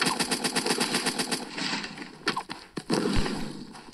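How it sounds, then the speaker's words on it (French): Rapid submachine gun fire in the Zombs Royale video game, a fast regular burst of shots for over a second, then scattered single shots and impacts, loud and close with no talk. "Je crois, je sais pas si c'est une SMG ou une AR."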